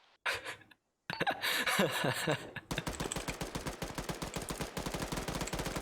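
Video-game gunfire cracks in short bursts after a brief pause, then settles into a long, rapid rhythmic volley of close shots with a few faint vocal sounds mixed in.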